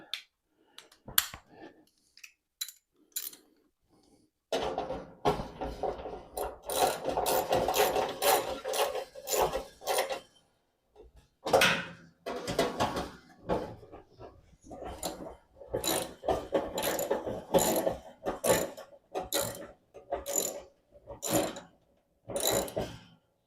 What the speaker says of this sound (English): These are going to get tightened up.